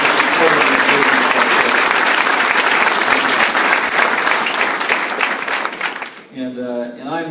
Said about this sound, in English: Give them a round of applause for supporting this business